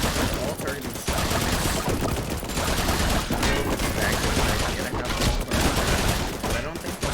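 Towers in Roblox Tower Defense Simulator firing nonstop, a loud dense barrage of rapid gunfire and shots layered throughout the game.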